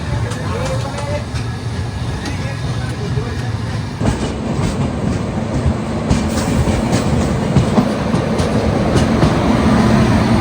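An Indian Railways train hauled by an ageing WG5 locomotive rolls along, its steady broadband rumble and clatter building slightly toward the end, with faint voices underneath.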